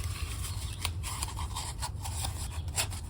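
Scissors snip and rub through cardboard kitchen roll tubes, cutting slits in the bottom, with a soft continuous scraping texture over a low background hum and no talking.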